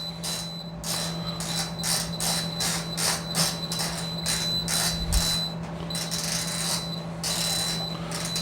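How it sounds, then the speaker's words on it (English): Rapid, regular electronic beeps from a Kalorik Maxx air fryer oven pulse insistently over a steady mechanical hum, continuing for several seconds at moderate volume. "Sorry if that beeping noise is annoying."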